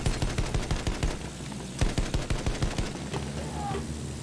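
Rapid machine-gun bursts in a shooter video game, aimed at soldiers up on rooftops, come in repeated rhythmic volleys with a short pause in the middle, loud and close.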